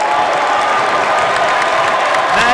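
A basketball arena crowd cheers and applauds during a timeout in a conference final game, a dense, loud, continuous roar of clapping and shouting.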